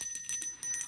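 Small witch's craft bells jingle in quick, bright, metallic strikes, several light rings in under a second, close and clear with sustained high overtones.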